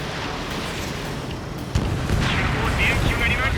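Missile explosions rumble in an air combat scene from the video game Ace Combat 7, with a sharp blast partway through followed by sustained roaring jet and explosion noise, while radio voices talk over it.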